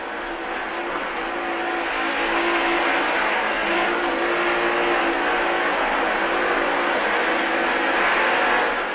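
A racing powerboat engine holds a strong throttle during a race, producing a loud, continuous droning roar with a steady pitch that swells slightly toward the end.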